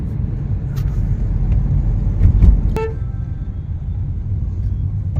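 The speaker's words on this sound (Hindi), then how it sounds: "आज संडे होने की वजह से ट्रैफिक भी बहुत ज्यादा है।" Heavy Sunday road traffic in Ahmedabad heard from inside a car, a steady low rumble of engines and road noise with a brief louder swell midway and a short horn toot just after.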